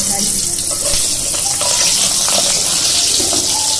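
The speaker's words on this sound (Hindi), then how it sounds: "अब इसमें हम ये मिर्चें तलेंगे" Green chilies dropped into hot oil in a home kitchen, a loud, continuous hiss and sizzle of frying that stays steady throughout, with a voice faint underneath.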